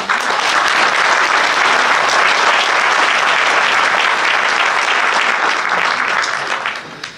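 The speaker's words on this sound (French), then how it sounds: "On peut les applaudir." Sustained, loud audience applause at an evening civic ceremony hosted by the mayor of Hombourg-Haut, dense clapping that holds steady for several seconds before tapering off at the end.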